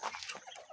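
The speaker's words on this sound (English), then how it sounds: "Look at these chickens following me." Chickens cluck softly nearby while following a person around a backyard coop, faint, busy, overlapping calls with no voices.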